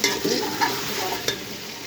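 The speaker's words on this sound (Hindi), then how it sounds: "ये नाज़रीन जैसे कि आप देख रहे हैं कि हमारी अरबी जो है ये फ्राई हो जाएगा।" Arbi (taro root) frying in a pot while being stirred, a close continuous sizzle broken by a few scraping stirs of the spoon against the pot, with no voices.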